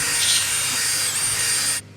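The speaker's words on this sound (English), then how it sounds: "So now I just reamed the hole out about 3 sizes bigger" A power drill reams a bolt hole several sizes larger in metal, a steady close grinding whir with scraping texture that runs for nearly two seconds and then cuts off abruptly.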